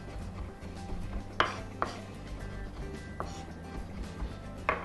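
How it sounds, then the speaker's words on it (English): A knife chops food on a cutting board toward a fine dice using a roll cut, giving a few sharp, spaced thuds and knocks over a low background hum, close by with no talk. "to make a finer dice, we're going to use a hands-free roll cut. We'll cut it through"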